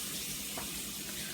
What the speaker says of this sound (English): I got some hot water running to keep from clogging up my sink with the grease